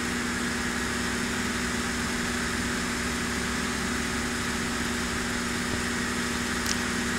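Twin radial engines of a DC-3 airliner in the FS9 flight simulator, set to climb power: a steady, loud, droning hum with a constant tone that holds unchanged throughout.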